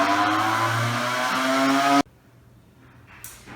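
A lab centrifuge spinning hematocrit tubes whines loud and close with a steady tonal hum for two seconds, then cuts off abruptly into near-silence with a faint later rustle.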